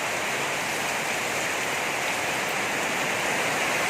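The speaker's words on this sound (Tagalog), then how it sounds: "Ito na po yung ulan mga idol na malakas po sa bagyong Krising." Heavy typhoon rain pours down in a steady, dense roar of rushing water, loud and unbroken throughout, in the Philippines during Typhoon Crising.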